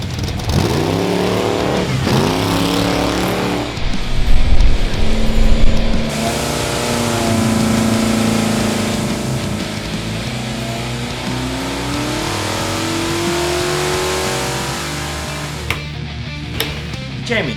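A race car engine revs hard up close, rising and falling through repeated throttle blips with a steady loud drone in between and a brief burst of sharper roar.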